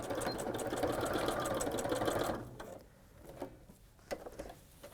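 A sewing machine stitches steadily through stiff tape in a quilting session, running loud and close for about two seconds before stopping, after which only faint clicks and handling noises remain.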